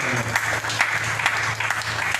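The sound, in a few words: congregation applauding in church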